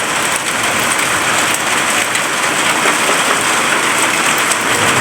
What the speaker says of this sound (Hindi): देखो बहुत जोरों से बारिश लगी है।